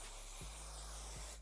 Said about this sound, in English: I'm gonna take the same hairspray and just spray that.